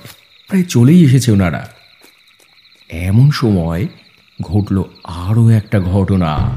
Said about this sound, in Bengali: শুধুমাত্র ঝিঝি পোকার ডাক।